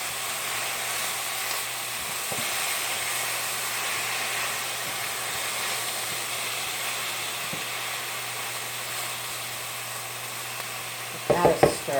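Meat and vegetables sizzling in a hot pan, a steady loud hiss throughout, with a few stirring clanks of a utensil near the end.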